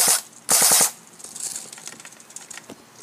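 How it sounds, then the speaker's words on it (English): An airsoft AEG fires in full auto. Two short, sharp bursts of rapid shots crack close by, followed by quieter mechanical clicks and rattling. "Alright, I'm going to shoot it in full auto"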